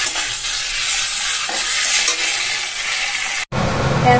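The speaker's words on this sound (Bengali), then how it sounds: "মশলা টমেটোর সাথে কষিয়ে নিই সব কিছু" Masala being sautéed with tomatoes in a pan, giving a loud, continuous sizzle with stirring scrapes, broken by a brief cut before the frying resumes.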